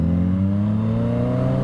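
A Yamaha FZ-09 motorcycle engine pulls hard under light throttle, a loud close steady rising drone with strong harmonic tones climbing in pitch throughout.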